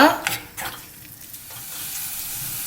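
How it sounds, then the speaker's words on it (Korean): Chopped kimchi stir-fried in sesame oil in a pot sizzles steadily close up, with an opening burst of stirring scrapes and clatter fading into a continuous soft hiss. "김치를 먼저 볶아줄 거예요."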